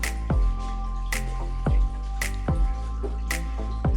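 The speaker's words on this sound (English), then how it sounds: "The water are dripping out of the wall" Water drips from a rock wall at a spring in the Jerusalem Mountains where small stalactites have formed, several distinct close drops falling at irregular intervals against a quiet, steady background.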